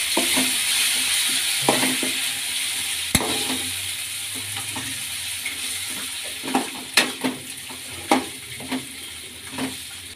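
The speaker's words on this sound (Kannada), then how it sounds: "ಇದನ್ನ ಫ್ರೈ ಮಾಡಿ" Grated raw mango frying in a pan for mango chitranna, a soft steady sizzle under intermittent sharp scrapes and clinks of a spatula against the pan, growing more frequent toward the end.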